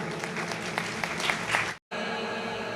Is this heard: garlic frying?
no